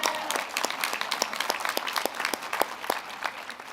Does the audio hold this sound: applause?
yes